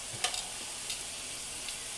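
Carne asada sizzling in a frying pan on a stovetop as it is stirred and mixed, a steady hiss with a few soft scraping clicks of a utensil, close and fairly quiet with no talking.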